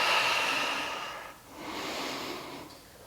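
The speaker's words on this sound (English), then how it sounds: "And breathe." Slow, close breathing during a yoga exercise, with a long audible inhale followed by a steady exhale, heard alone.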